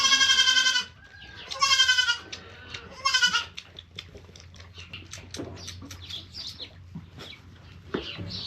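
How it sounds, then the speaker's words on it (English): A goat bleats loudly three times in close succession, harsh and wavering, followed by quieter rustling and other farmyard animal noises in the background. "That loud goat"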